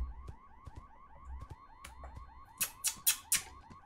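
A video game alarm set off by a button press, sounding as a repeating electronic wail in steady pulses, with several sharp, louder bursts near the end.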